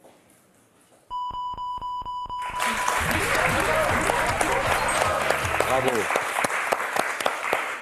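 Loud studio audience applause on a French television word-game show, a sustained burst of clapping that swells after a few electronic tones, with a host's voice speaking over it.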